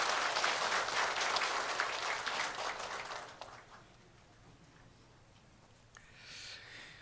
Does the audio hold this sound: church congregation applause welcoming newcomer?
yes